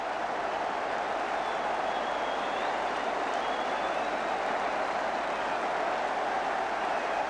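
Football stadium crowd at a Leeds United match, in old broadcast sound from the 1969–1983 era, applauds as a steady, distant roar of clapping that stays level throughout, with no individual claps standing out.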